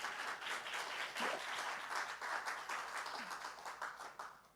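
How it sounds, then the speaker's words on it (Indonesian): A church congregation at a sermon gives modest applause, a light, uneven patter of clapping that swells and tapers over a few seconds, with faint voices underneath. "Heran ya, tepuk tangan kok malu-malu untuk Tuhan."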